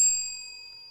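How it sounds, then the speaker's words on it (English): A bell struck once with a bright metallic ding, its clear ringing tone decaying slowly over a second, heard alone without talk. "We're even gonna ring the bell."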